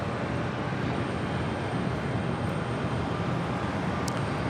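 A Royal Jordanian Boeing 787-8 Dreamliner going around at JFK airport on runway 4 left, heard as a steady, broad engine roar that stays level throughout without a clear rise or fade.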